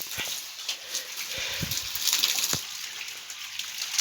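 Water hose spraying onto a house under construction in the Konkan countryside on a cold morning, a steady hissing gush running throughout with a few brief knocks.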